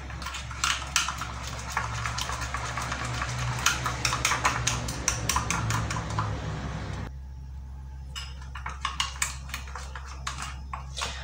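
A spoon clinks and scrapes rapidly inside a bowl while a homemade face-mask mixture is stirred, with bursts of close metallic taps over a low steady hum and a brief pause midway.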